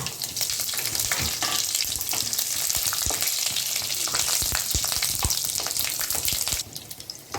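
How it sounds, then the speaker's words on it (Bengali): Loud, steady sizzling and crackling of dry chilies frying in hot oil with bay leaves, green chilies and panch phoron, close up, with sharp pops scattered throughout and no talking. "এবার আমি এতে সবার আগে শুকনো লঙ্কাগুলো ছেড়ে দিলাম, তারপরে তেজপাতাগুলো, কাঁচা লঙ্কা এবং 5 ফোড়নটা"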